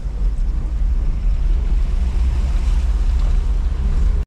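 Floodwater rushes across a road through dense forest near Jim Corbett, a steady loud churning wash with no spoken voices.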